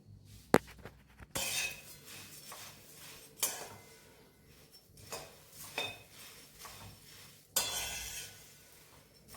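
A metal wok (kadai) is set on a stove in a home kitchen, giving several bright clanks and clinks at irregular intervals, close and clear against a quiet background.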